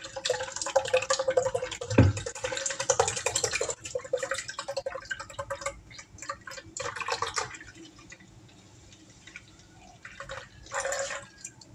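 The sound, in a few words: pouring milk into pot for rice pudding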